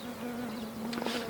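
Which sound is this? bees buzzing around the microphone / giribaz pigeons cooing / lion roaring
bees buzzing around the microphone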